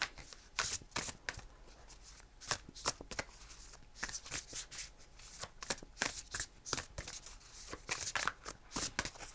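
Oracle cards being shuffled by hand, a series of quick crisp riffling bursts repeated many times at close range, separated by short pauses and soft handling sounds.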